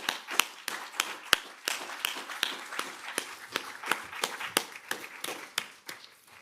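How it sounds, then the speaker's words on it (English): A small audience at an annual general meeting applauds, sparse individual claps with sharp, uneven hits that thin out toward the end, nearby and with no talking. "please join me in applauding Nick"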